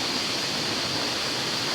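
Pabusay waterfall in the mountains rushes in a constant hiss of falling water, even and unbroken at moderate level with no voices.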